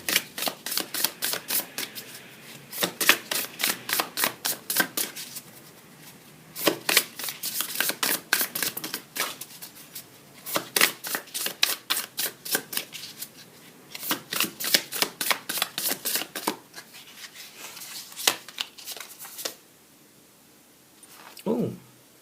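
Tarot cards shuffled by hand in repeated riffling bursts, crisp and close, with brief pauses between rounds over about twenty seconds, no talk.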